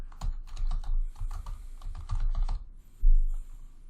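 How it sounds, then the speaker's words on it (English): A computer keyboard is typed on close and fairly loud, clicks arriving in quick uneven bursts as an ID is entered, followed by a brief pause and a heavier final keystroke. "Okay, so we'll type that into the ID."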